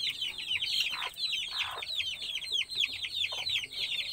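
Young chickens cluck while feeding, a dense, continuous chorus of quick chirpy clucks close by with no talking.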